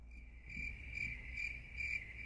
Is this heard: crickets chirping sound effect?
yes